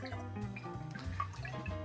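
Filtered water poured into a freezer-door bourbon old fashioned made with higher-proof bourbon, a soft close trickle with light dripping, no voices.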